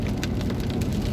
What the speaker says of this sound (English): the rain's not that heavy, it's just consistent